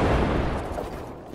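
An RPG rocket explosion in Fortnite, one loud, close blast whose rumble decays over about a second, with no voices.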